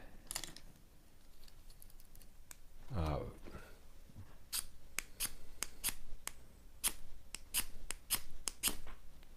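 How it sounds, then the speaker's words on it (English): A small survival-kit sharpener is scraped as a fire striker to throw sparks: one rasping strike, followed by a run of sharp, close metallic ticks and clicks. "I don't know if you see the sparks flying, but it'll definitely throw some sparks."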